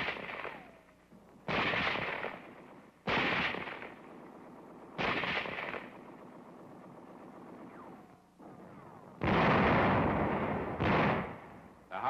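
An M4 tank shells a house at point-blank range in the WWII town of Oberhofen during the Battle of Alsace, heard as several loud, booming blasts in a broken rhythm, each followed by a rumbling roar of debris and echo.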